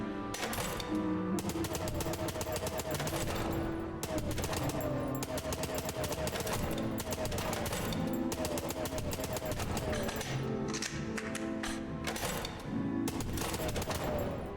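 Rapid automatic Tommy gun fire in the video game Chicken Police, sustained bursts of close, loud shots across the whole stretch with short gaps between volleys.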